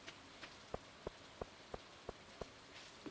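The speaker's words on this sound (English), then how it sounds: "Dog, what are you doing out in the rain?" Steady soft video game rain hiss with evenly spaced drip or tap sounds, roughly one every third of a second, quiet and with no voices.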